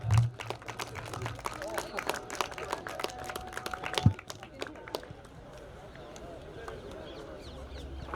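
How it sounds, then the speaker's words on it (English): Audience applause and scattered clapping at the Bhaichung Bhutia Football Schools Champions Cup, dense for about four seconds and then thinning out, heard under a loudspeaker voice and the hum of the crowd. "Once again, give them a big round of applause."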